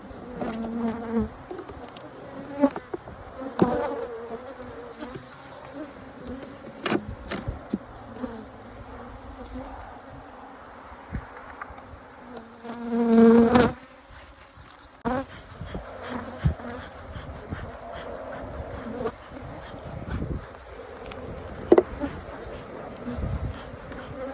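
Honeybees buzz steadily around a hive, a close, continuous insect drone with brief louder swells as individuals pass near, over quiet outdoor background.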